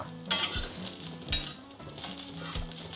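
Ingredients roast in a little oil in a pan, with a soft sizzle under repeated scraping and clinking strokes of a spoon stirring against the metal, close and steady with no talking.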